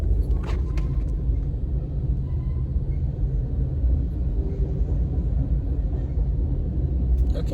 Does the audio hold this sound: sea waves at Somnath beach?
no